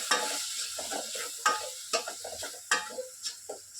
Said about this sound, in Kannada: ಇದೀಗ ಚಂದ ಎಣ್ಣಾಗ ಮಿಕ್ಸ್ ಮಾಡ್ಕೊರಿ